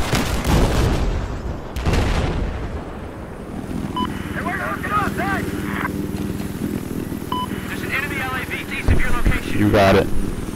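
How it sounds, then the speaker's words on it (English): A helicopter's rotor and engine rumble steadily throughout in Battlefield 4, mixed with game gunfire and bursts of radio-style chatter over the noise. "Enemy helicopter spotted."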